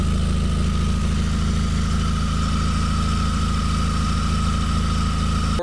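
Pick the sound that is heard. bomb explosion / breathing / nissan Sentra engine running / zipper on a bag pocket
nissan Sentra engine running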